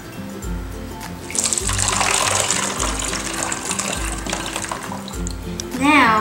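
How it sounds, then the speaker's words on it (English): Blue water is poured from a pitcher into a bottle for an ocean-in-a-bottle experiment, a splashing, gurgling stream under a voice speaking over it, ending with a rising glug as the bottle fills. "Now you're gonna fill your bottle halfway with your blue water."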